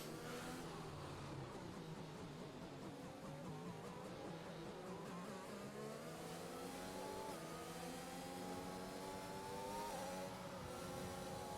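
Race cars in a racing video game run a formation lap at the Great Britain round, several engines droning and revving together at a steady moderate pace, faint and continuous with rising and falling pitch.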